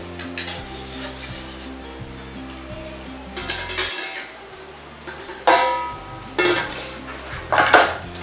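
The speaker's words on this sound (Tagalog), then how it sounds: "Tapos, halo-haloin lang po natin hanggang sa well combine po ang lahat." Red velvet cake batter being mixed by hand in a bowl, with close, intermittent bursts of utensil scraping and clinking against the bowl between quieter pauses, and no talk.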